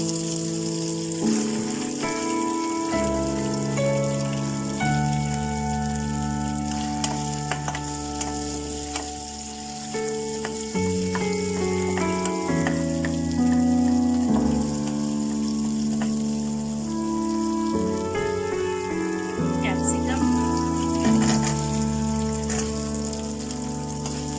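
Green chilies fry in a pan for soya chilli with a continuous soft sizzle, heard under steady background music that carries through the whole stretch.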